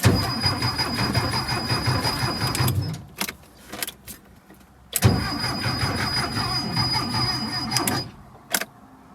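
The VW Type 4 engine of a 1976 Porsche 914 barn find cranks for a first start after thirty years: two long, steady starter-motor cranking runs, close and loud, separated by short clicks and pauses.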